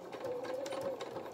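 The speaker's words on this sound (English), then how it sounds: "I'm going to pop that into my sewing machine. And we're going to sew forward and then reverse a few stitches" A sewing machine stitches fabric for a stuffed otter toy's head in a quick, even run of needle clatter with a steady motor whine, close and fairly quiet.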